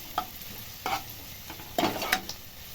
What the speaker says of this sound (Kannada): ಈರುಳ್ಳಿ ಮತ್ತು ಹಸಿಮೆಣ್ಸಿನ್ಕಾಯಿನ ಗೋಲ್ಡನ್ ಬ್ರೌನ್ ಬರೋರು ಚೆನ್ನಾಗಿ ಫ್ರೈ ಮಾಡ್ಕೊಳ್ಳಿ